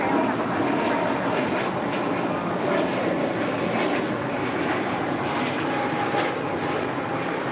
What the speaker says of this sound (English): That was Spirit Airlines, Flight 266, heading to Philadelphia, and then A320neo.